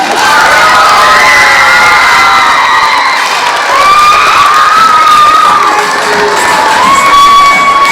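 A school gym crowd cheers and applauds loudly and continuously, children shouting and whooping over a dense wash of clapping for the helpers of a community show.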